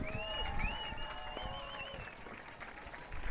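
A beach crowd at a paddle race finish cheers and claps for an approaching racer, a broad, distant wash of applause and whoops with a few high whistles or shouts rising above it.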